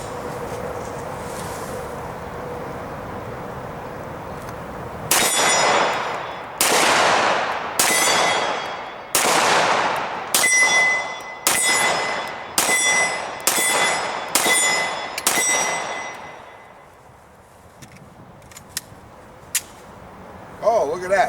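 Nine sharp S&W SD9 VE pistol shots ring out at outdoor targets in an uneven rhythm, each loud crack followed by a brief decaying echo, with a faint metallic ring after several hits.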